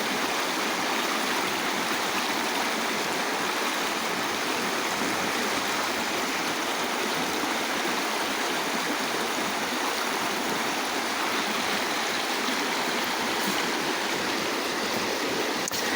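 Lewis River stream flowing steadily over sand and rocks, a dense, continuous rushing wash heard close and unchanging throughout, with no voices.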